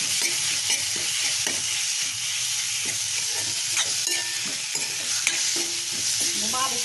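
Raw mango chutney, ground in a stone mortar, is stirred and mixed, with steady scraping strokes and a low frying hiss continuing throughout, close up, with no voices.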